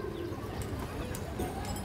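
A female pigeon coos softly at close range, giving low, rounded calls against a background of other birds and ambient noise.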